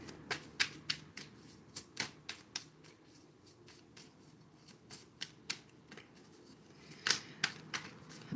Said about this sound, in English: Let's get a Namaste card from the Stress Less deck.